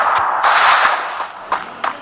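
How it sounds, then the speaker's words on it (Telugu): A sniper rifle fires in a mobile shooting game, one sharp loud crack with a brief ringing tail, followed by a few lighter clicks and thuds close by. "ఈ స్నైపర్ తీసాడు, బుల్లెట్ లేపాడు."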